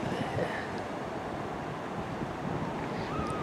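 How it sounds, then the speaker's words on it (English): Big waves rolling on an icy lake at a beach, a steady broadband wash of surf mixed with wind buffeting the microphone, continuous and moderately loud with no talk. "There's the big waves of the icy, icy lake."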